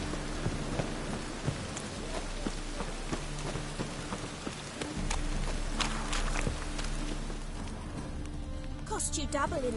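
Steady, heavy rain pours in Witcher 3, a dense continuous patter with a low rumbling undertone and occasional louder drops, filling the scene without pause.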